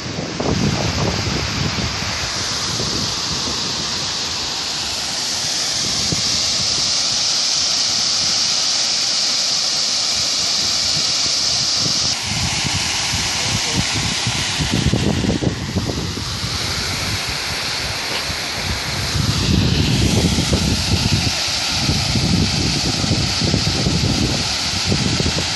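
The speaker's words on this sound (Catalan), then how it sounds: "Veieu, així soneix l'aigua. Això és la presa de Bellús, val?" Water rushes steadily through the Bellús dam on the Albaida river, a broad continuous roar with some wind buffeting on the microphone. It stays loud throughout and swells toward the end, with no talking.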